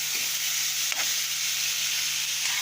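Onion and capsicum frying in a pan, a steady loud broadband sizzle with a faint low hum underneath and a brief stir click near the start, no talking.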